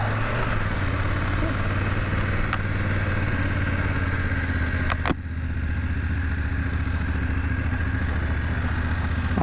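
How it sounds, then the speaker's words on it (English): A BMW F 900 GS motorcycle engine runs at a steady drone throughout the ride, close and loud, with a brief clunk partway through and no talking. "I'm riding the 900 GS now."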